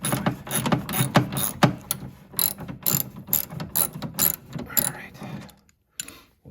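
A socket ratchet clicks off bolts on a Toro Power Clear 621 QZE snowblower during scraper bar replacement, giving close, loud bursts of rapid pawl clicks broken by short pauses, then stopping near the end.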